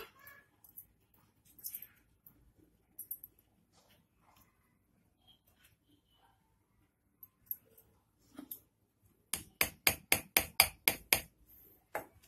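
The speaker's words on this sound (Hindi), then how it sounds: "इस तरह से करके मैं इसे ठोक देती हूँ" Nails are hammered into a wooden loom frame, scattered light taps at first, then a quick even run of about eight sharp knocks close by.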